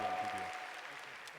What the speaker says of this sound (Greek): Ένα θερμό χειροκρότημα για τον Δημήτρη Βασιλάκη και την Εφέλη Φασού